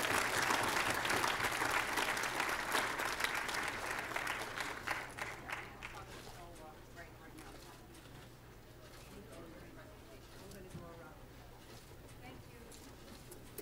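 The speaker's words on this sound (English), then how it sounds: "So let's give them a round of applause" Audience applause at a city council meeting, loud sustained clapping from a crowded chamber that gradually fades out, leaving quiet room tone with faint voices.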